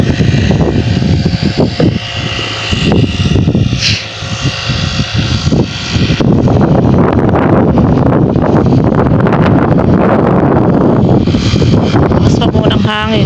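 Strong wind roars and buffets loudly and continuously, with gusty rumbling and rustling; a voice can be heard briefly amid the noise.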